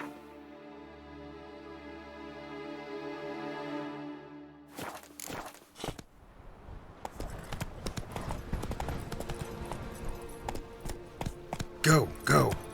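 Horse hooves in The Witcher 3 game, first a steady clip-clop at a walk, then a louder, faster galloping rhythm over game music and battle noise, growing busier toward the end.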